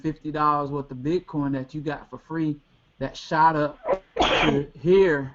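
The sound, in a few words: sneeze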